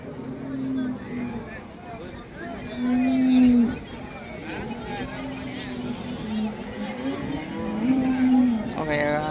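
Cows lowing at a crowded village cattle market in Modnimb, several drawn-out moos rising over a steady murmur of people talking nearby.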